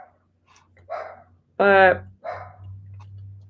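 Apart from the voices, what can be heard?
dog Pickles barking at something outside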